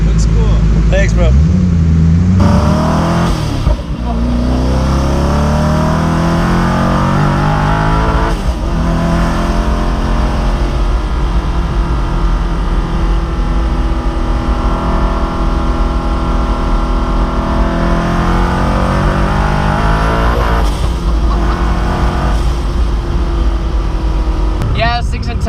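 A Koenigsegg Agera RS engine roars and revs loudly and continuously, its pitch rising and falling, with brief voices heard over the engine near the start.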